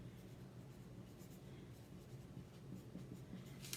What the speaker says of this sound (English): I can't write and talk at the same